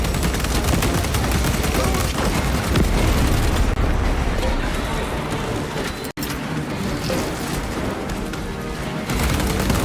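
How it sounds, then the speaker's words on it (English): A frag grenade bursts in Space Marine 2 amid constant heavy gunfire, a dense, loud barrage of shots and blasts that barely lets up, with a momentary dropout midway. "Frag grenade deployed."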